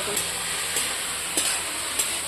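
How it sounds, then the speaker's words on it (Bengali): Fish curry spices and salt sizzle steadily in a hot oiled pan, with a spatula scraping through them every half second or so, close and moderately loud. "আর এই দেখো এখন কষানো হবে বেশ কষাতে হবে"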